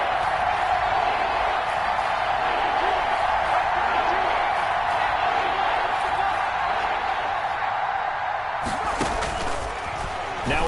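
A football stadium crowd in a Madden game roars in a steady, dense wash of noise that rises in excitement, with a few sharp thuds near the end.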